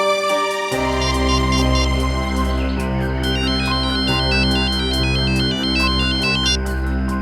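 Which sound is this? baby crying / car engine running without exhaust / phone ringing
phone ringing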